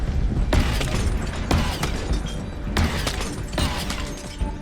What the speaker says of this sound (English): Step 1, break all of the glass.